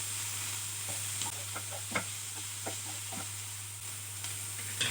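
Spicy Telangana-style carrot fry being stirred with salt in a pan: a soft, low sizzle with a run of light scraping strokes, close by, over a steady background hum, with no talking.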